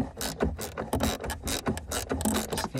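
A ratchet loosening a 13 mm bolt on the battery of a 2015 BMW F31 3 Series, a close, quiet run of rapid clicking strokes in quick succession with no talk.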